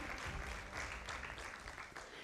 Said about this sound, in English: A round of applause for Moi Girls Nairobi.